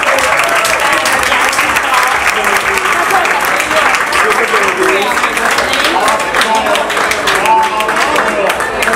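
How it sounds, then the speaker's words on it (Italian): Loud, sustained applause from a crowd cheering the winner of a contest at a Milano Fashion Week show, the dense clapping close and continuous while voices chatter beneath it. "Un applauso a Bianca che ha vinto"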